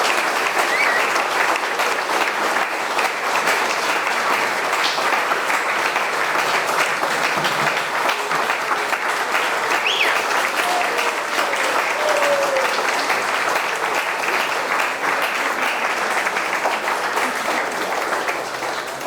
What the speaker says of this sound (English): Let's give all of these folks a good round of applause.